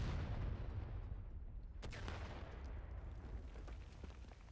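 A distant cannon counter-battery shot rumbles across a Civil War battlefield in the video game War of Rights, a deep boom over steady low background rumble, with a sharp crack near the middle.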